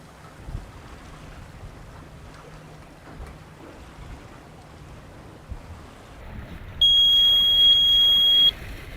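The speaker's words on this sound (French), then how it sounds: "on va avoir un bip de cette antenne qui signifie le bon fonctionnement des émissions Argos" A single high electronic beep from an Argo float's Argos antenna sounds steadily for nearly two seconds near the end, over a quiet background of wind and faint rumble.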